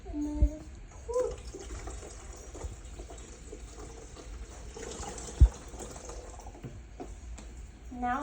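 Water pours into the reservoir tank of a home coffee maker, a soft trickling fill running steadily beneath faint background noise, broken by a few sharp knocks and brief voices.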